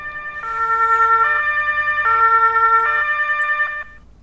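An emergency-vehicle siren from the farming video game Landwirtschafts-Simulator 19 wails loud and close, cycling through alternating two-tone steps over a low engine rumble, then cuts off.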